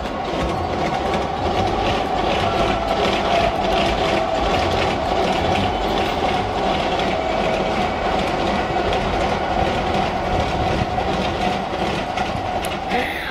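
An express train passes close by a small railway station, with a continuous loud rumble and rhythmic clickety-clack of wheels over rail joints throughout.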